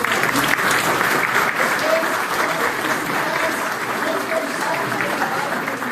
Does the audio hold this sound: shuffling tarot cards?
no